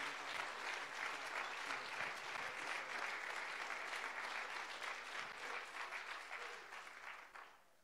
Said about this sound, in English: Let's give a hand clap to God for praise for this.